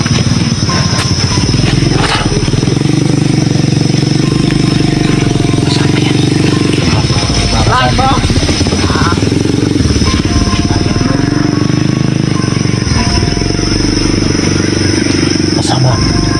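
A motorcycle engine runs steadily nearby, a loud rumbling idle throughout, with brief clatter and faint voices now and then.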